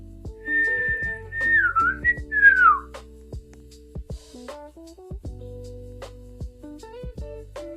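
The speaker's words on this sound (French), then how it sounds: "Désolée si j'ai sifflé dans vos oreilles et ceux qui ont des écouteurs" A person whistles a short, wavering tune up close and fairly loud, with sliding notes in several phrases over the first few seconds before trailing off amid faint background noise.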